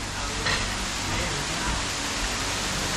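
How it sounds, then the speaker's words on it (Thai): A garden restaurant beside a road in Hua Hin has a waterfall that gives off a continuous, even rushing hiss, with a voice faintly present beneath it. "เดี๋ยวจะพาไปฟังเสียงน้ำตกอีกรอบนึงค่ะ"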